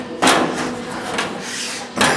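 A Camaro door under repair is worked open, with a couple of sharp clunks and a scraping slide between them, loud and close.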